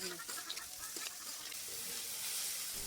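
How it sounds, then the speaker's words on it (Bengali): Soaked red lentils and banana stem sizzle and stir-fry in a pan, with a steady frying hiss and occasional soft stirring scrapes. "মসুর ডালটা ভালোভাবে ধুয়ে থোরের সাথে দিয়ে ভাজা ভাজা করে নিলাম"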